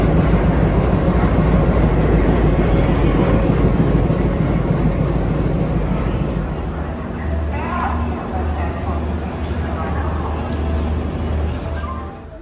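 Steady low rumble and rattle inside a moving Shipra Express passenger train, loud and continuous throughout, with a deeper engine-like hum taking over in the second half while people talk nearby.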